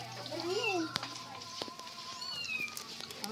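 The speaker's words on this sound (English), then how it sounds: "There are four kittens there." A kitten gives a thin, rising-and-falling meow up close, then quieter meows follow amid light clicks and soft background noise.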